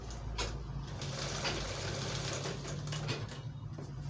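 A sewing machine runs steadily along the edge of a piped sherwani with a continuous, close mechanical whir of rapid stitching.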